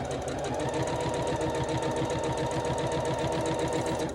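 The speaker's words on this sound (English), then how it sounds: "We're sewing 1/4 of an inch to each side of the middle." Close, loud domestic sewing machine stitching quilt pieces, with a fast, even needle chatter running continuously and unbroken throughout, and no one talking.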